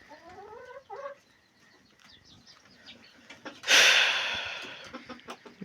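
Lice-infested backyard chickens cluck in a run with a few short calls at the start, then a sudden loud burst of scratching or feather-rustling noise that slowly fades, with faint scattered sounds around it.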